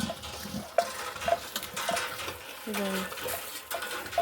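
A borewell hand pump is worked by villagers in a forest settlement in Chhattisgarh. Soft metallic clanks repeat at a steady rhythm with splashing water, and a brief voice is heard nearby.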